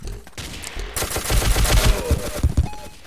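Rapid, overlapping gunfire from a shotgun in the Ace of Spades video game, loud bursts of close reports packed densely together over a few seconds.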